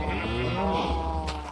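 A Minecraft sheep bleats in one long, wavering, nasal cry that is close and loud, with a faint bit of background noise near the end.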